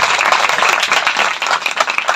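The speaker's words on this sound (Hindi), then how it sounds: "बहुत कम तालियां, बहुत कम।" Applause rings out during a church service, a loud burst of close, brisk clapping from the congregation, rippling unevenly and tapering slightly toward the end.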